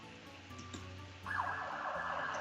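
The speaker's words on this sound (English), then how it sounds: "And there's the ambulance." An ambulance siren outside, starting faint and then swelling into a steady, loud wail for the last second, with no talk over it.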